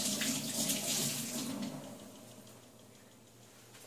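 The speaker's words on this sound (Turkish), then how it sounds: "Elimizi yıkıyoruz." Running tap water while hands are washed at a kitchen sink, a steady hissing splash close by that softens toward the end, no talking.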